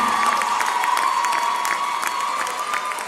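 A crowd claps and cheers steadily at a high school graduation ceremony, sharp handclaps scattered over a sustained hum, fairly loud with no speech.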